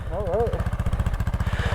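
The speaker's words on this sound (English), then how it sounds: "I'll probably hop on Jorge's bike first, the Honda XR650L." A Honda XR650L dirt bike engine idles close by on a forest trail, a loud, fast, even thumping pulse. A brief voice rises over it at the start.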